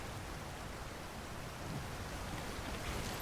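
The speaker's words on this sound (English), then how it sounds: "Rain is definitely a problem." Steady rain hisses in the video game Death Stranding, a constant soft wash of downpour heard alone without talk.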